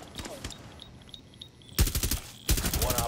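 Video game automatic gunfire in short rapid bursts, two loud volleys late on after quieter scattered shots, with some talk near the start.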